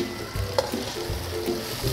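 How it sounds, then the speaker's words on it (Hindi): Three medium onions frying in a cup of oil for white chana pulao, a close, steady sizzle with a few soft stirring clicks, no voices. "3 अदद दरमियानी प्याज, इसको 1 कप ऑयल में डाल के तो इसको फ्राई कर रहे हैं"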